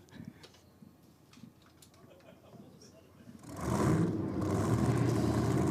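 Supercharged drag race car engines fire up at a Grudge Kings race day, a loud, dense roar that swells suddenly partway through and holds steady, with a voice talking over the quieter lead-in.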